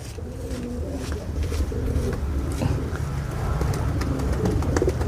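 Racing pigeons coo and call outdoors while a steady rumble of wind and distant traffic runs under them, with soft repeated coos in a loose rhythm across the stretch.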